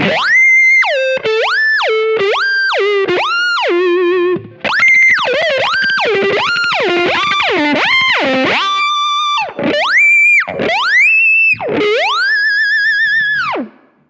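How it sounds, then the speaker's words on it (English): Electric guitar through a whammy pedal set 24 semitones up, loud notes swooping up and down in repeated bends, sounding high, squeaky and harsh. "that's what he used on the whammy pedal too. And this is how it sounds like"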